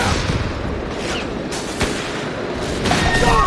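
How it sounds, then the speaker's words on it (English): Battle sounds from Company of Heroes 3, with a rifle grenade blast and gunfire: dense rumbling booms and sharp cracks crowd together close and loud, building toward the end. "Rifle grenade!"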